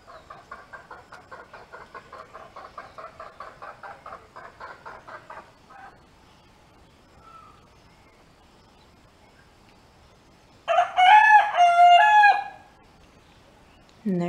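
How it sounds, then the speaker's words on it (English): A rooster crows once, loud and drawn out, after a stretch of quieter, rhythmic background sounds and a short lull. "And there's the obnoxious rooster that never shuts up."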